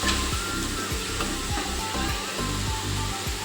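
Potatoes fry in hot oil with a loud, continuous sizzling hiss, while a regular thumping pulse runs beneath it.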